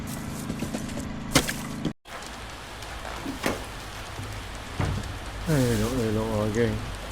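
Rain falls steadily on a surface around a fishing spot, a soft continuous patter with a few louder drops and knocks, while a person talks briefly near the end.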